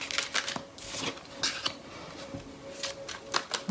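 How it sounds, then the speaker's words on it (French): Tarot cards being handled and laid face down on a table, soft papery shuffling with light taps and flicks, quiet and close. "On va recouvrir ces cartes."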